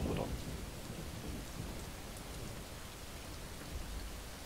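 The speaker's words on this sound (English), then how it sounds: "Above the thunder and lightning" Steady rain hiss under a low rumble of thunder during a storm in Skyrim SE, with a louder burst at the very start. The sound then settles into an even downpour with no voices.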